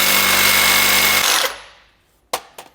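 A power tool cuts through the U-bolts from a 3-inch lift kit on a 2024 GMC 2500, a loud, steady grinding whine for over a second that then winds down, followed by a few sharp metallic clanks.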